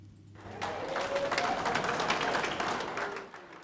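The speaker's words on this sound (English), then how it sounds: "the crowd went wild, clapping and cheering" Crowd clapping and cheering as soldiers returning from service in Bamyan Province walk through the door, a dense, steady roar of applause lasting a few seconds before easing off at the end.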